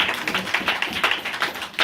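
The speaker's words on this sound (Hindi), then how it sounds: "ताली बजाए, अच्छा है, लेकिन टाइम पे बजाओ" An audience claps in rhythmic, fairly close bursts, steady and a little uneven.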